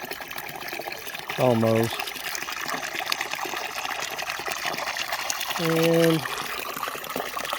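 Water from a hose fills a container with a continuous, fairly loud trickling rush that runs the whole time, while someone talks over it in two short bursts.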